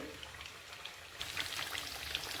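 Rain patters steadily outdoors, growing heavier halfway through into a denser hiss with scattered drops striking nearby surfaces.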